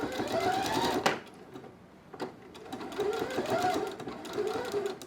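A domestic sewing machine stitches bias binding in short bursts and ends with a backstitch. Its whirring runs close and at moderate volume, breaks off around the one-second mark, then resumes, while someone talks over parts of it.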